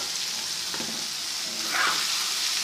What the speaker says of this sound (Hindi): और अच्छे तरीके से फ्राई करेंगे।